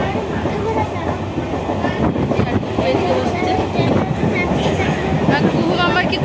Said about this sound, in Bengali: আমাদের ট্রেন ছেড়ে দিয়েছে।